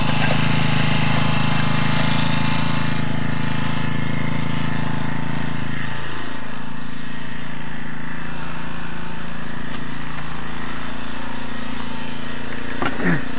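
Four-stroke engine of a Champion T334FS brushcutter running steadily under load, a loud continuous mechanical drone near the microphone with a brief dip in pitch midway, no talk over it.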